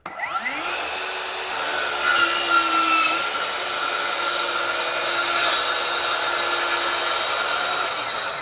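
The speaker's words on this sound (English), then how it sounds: "I'm cutting some 3/4 inch birch plywood" A RIDGID 18V brushless track saw plunges into and cuts 3/4 inch birch plywood. The motor spins up to a high, steady whine and is joined by a loud, continuous rasp of blade through wood, close and unbroken.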